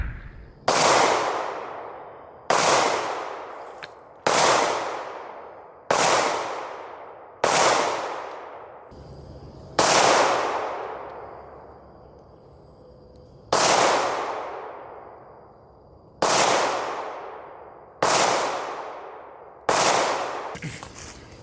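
Eleven sharp, loud gunshots from a Chambers custom 1911 pistol, fired one at a time at a steady pace of roughly one and a half to two seconds apart, each with a decaying outdoor echo.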